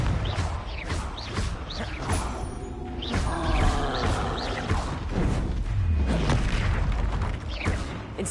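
Repeated Confringo fire-blast spells in the Hogwarts Legacy video game, several booming bursts with whooshes and crackles in a busy, continuous mix of combat noise.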